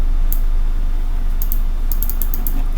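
Sparse, light key clicks on a computer keyboard as a command is typed while drafting in AutoCAD, a few isolated taps and then a quick cluster near the end, sitting over a steady low hum.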